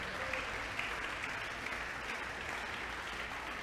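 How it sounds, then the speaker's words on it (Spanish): A church congregation applauds in steady, continuous clapping that stays even and fairly full from start to finish, with no voices standing out. "Dele ese aplauso a Jesucristo."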